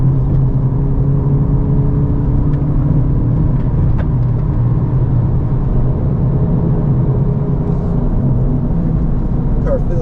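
A 2023 Honda Civic Type R runs a hot lap at Gingerman Raceway, its engine a loud, constant drone heard from inside the cabin with little change in pitch. A faint voice is present under the noise.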